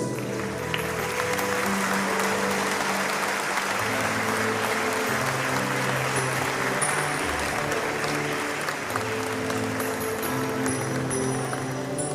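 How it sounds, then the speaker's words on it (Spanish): A crowd claps warmly and steadily for about twelve seconds, a dense sustained round of applause with no speech. "Damos un fuerte aplauso."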